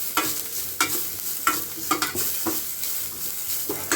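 Crushed garlic fries in hot oil with onions and curry leaves, a close, steady sizzle broken by several scraping stirs of a spoon against the pan.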